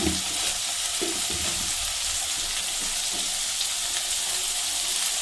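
Tomato masala fries in a pan for an aloo baingan sabzi, a steady close sizzle with a few low scrapes of stirring near the start.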